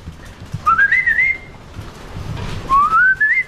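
Someone whistles two rising, sliding notes, one after the other, with a pause between them over quiet background noise.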